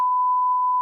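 A steady pure censor bleep, a single flat electronic tone lasting under a second, loud and alone, masking a spoken word.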